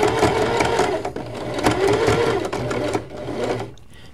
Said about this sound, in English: you sew around, being very careful because the mesh will catch